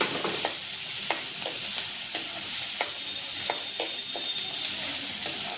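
Chopped onion sautéing in a pan for chole masala, a steady close sizzle broken by regular scraping strokes of a spoon stirring, with no voices.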